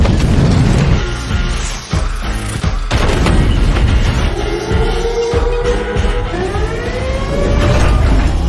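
A film sequence in which a wild-dog security system sets off a huge explosion with a blast radius of roughly 4.2 km: loud, dense booms and crashes, joined by rumbling engine-like roars and sweeping tones, with no talking.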